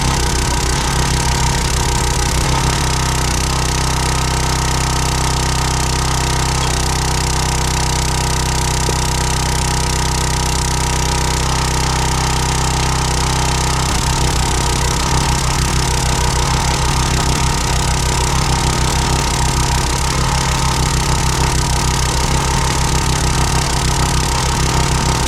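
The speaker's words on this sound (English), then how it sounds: "The log splitter just does an amazing job." A Countyline log splitter's engine runs continuously at a loud, steady drone with a rough, chugging texture. It stays close and unbroken throughout, with no voices.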